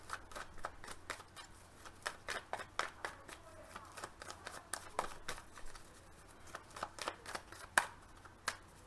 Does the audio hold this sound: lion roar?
no